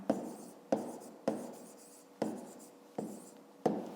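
A pen writes on paper in steady, evenly spaced strokes, about six crisp scratches close by, each fading quickly, with no talk.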